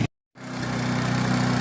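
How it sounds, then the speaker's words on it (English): A lawn mower mowing a food plot, a steady droning engine heard from a raised stand, loud and continuous after a brief cut of silence. "You can see Eddie down there mowing"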